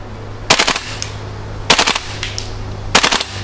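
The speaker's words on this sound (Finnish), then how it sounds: "ase vähän tärähtää ammuttaessa" A Rainbow Hi-Capa airsoft pistol with blowback fires three loud, close rapid bursts of sharp clacking shots, spaced about a second apart over a low steady hum.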